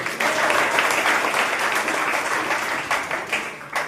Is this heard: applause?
yes